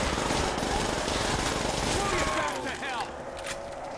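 Rapid, continuous gunfire from a PPSh submachine gun in a Call of Duty zombies game, dense and loud throughout the clip over chaotic game noise, with a voice speaking briefly near the end.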